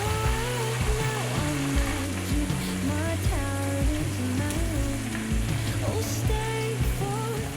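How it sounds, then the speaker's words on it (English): Soy garlic chicken pieces frying in hot oil for Korean-style double-fried chicken give a steady, close sizzle with constant bubbling crackle throughout, with no talking. "Fry the chicken 10 to 15 minutes depending on the size of the chicken."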